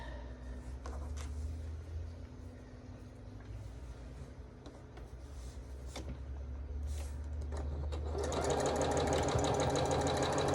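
A home sewing machine stitching quilt pieces runs in a steady low mechanical whir, picking up into a louder, faster rattling run over the last couple of seconds.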